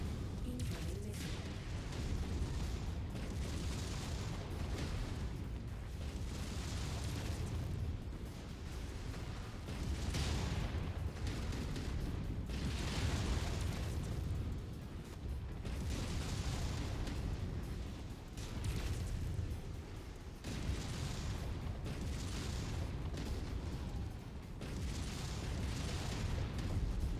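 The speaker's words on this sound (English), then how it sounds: "Incoming missile." Incoming missiles explode in the Mechwarrior 5 battle game, a sustained, dense barrage of booming blasts and rumbling impacts running continuously with brief dips.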